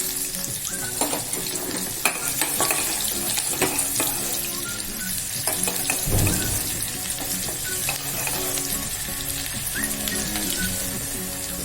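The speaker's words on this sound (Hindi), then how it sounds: "राई तड़कने के बाद जीरा डाल देंगे, कड़ी पत्ता ऐड करेंगे और स्लाइस वाली प्याज डाल देंगे।" Sliced onions, cumin and curry leaves fry after mustard seeds splutter, a dense continuous sizzle and crackle with occasional stirring clicks, close and loud throughout, no voices.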